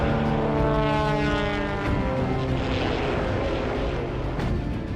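A propeller-driven aerobatic racing plane roars past at Aero GP, its engine loud and steady with a pitch that sweeps downward as it goes by, no talk.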